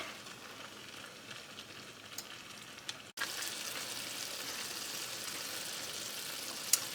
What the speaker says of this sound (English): Okay, we're gonna let that continue cooking.